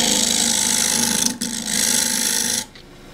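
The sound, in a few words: wood lathe truing box face with half-inch spindle gouge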